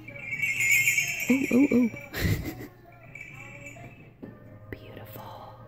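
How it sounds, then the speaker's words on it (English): Sleigh bells jingle and ring with a bright shimmer, shaken in a short burst partway through, while a person exclaims softly nearby. "These are sleigh bells."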